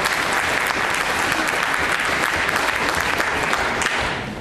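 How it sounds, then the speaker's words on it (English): A debate audience gives a dense, sustained round of applause for a speaker, loud and even, easing slightly at the close. "Round of applause for John MacKay."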